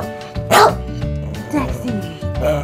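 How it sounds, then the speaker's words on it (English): A dog barks in short bursts near the microphone indoors, with someone talking over and between the barks. "Why do you have to bark every day?"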